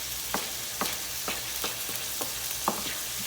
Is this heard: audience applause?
no